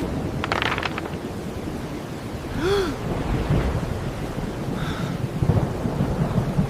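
A storm rumbles with steady rain and low thunder under a continuous wash of noise, with a couple of brief tonal swoops rising over it, in an animated retelling of Jonah's storm at sea.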